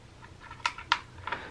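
A cat crunches on the last few pieces of dry kibble close by, a handful of sharp, irregular crunches over quiet background.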